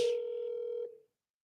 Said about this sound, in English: But all it is just dialing and until somebody picks up